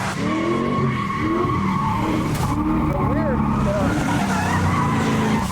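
Tires on a drift car fitted with a WiseFab steering kit squeal and skid in long continuous howls over a loud revving engine, with a voice talking underneath.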